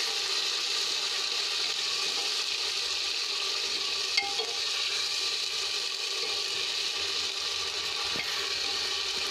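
Ginger, garlic and onion paste is stirred and fried in a hot pan for a black chickpea curry, giving a steady, close sizzle and hiss throughout, with faint scraping from the stirring and no talk.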